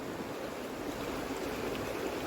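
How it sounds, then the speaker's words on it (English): A steady stream of shaving soap or liquid poured from a container during a review of a Hinoki and Sage shaving product, heard as a continuous close trickling wash with no talk. "Look at this beautiful pour."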